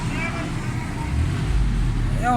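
A Suzuki Khyber car with a misfire, pick-up and fuel faults, and black smoke idles close by. Its engine gives a steady, loud, low rumble with a rough, uneven texture throughout.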